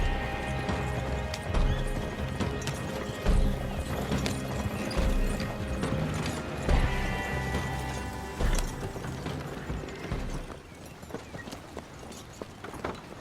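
Horse hooves clip-clopping as a horse-drawn wagon rolls along in Red Dead Online, steady rhythmic clops with creaking, rattling wagon mechanics, fairly close and loud, then slowing toward the end.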